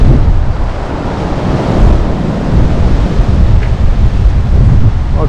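Large sea waves break on a beach at a Black Sea resort on a windy January day. The surf rumbles heavily and continuously, with strong wind buffeting close by and no speech.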